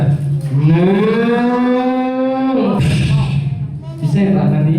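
A storyteller's voice imitates a cow's long, drawn-out moo, loud and close, with a rising then steady pitch for nearly three seconds, followed by a brief second lowing call.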